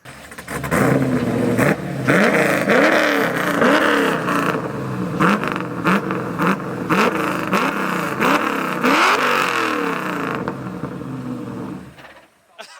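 A Nissan 240SX engine revs repeatedly on dyno day in rhythmic bursts, loud and close, each rev rising and falling, before cutting off near the end.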